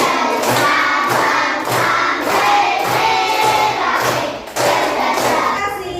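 A school class clapping hands in a steady rhythmic beat while singing the Indonesian song Dari Sabang sampai Merauke together indoors, loud and continuous for several seconds.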